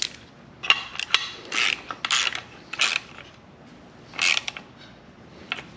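A ratchet tightens a part on a vehicle until it is snug, a series of short, close metallic clicking bursts with pauses between strokes.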